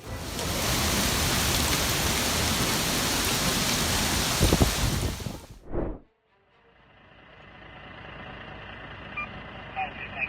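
A thunderstorm brings heavy rain as a dense loud hiss for about five seconds, then it cuts away to a quieter, duller rain ambience.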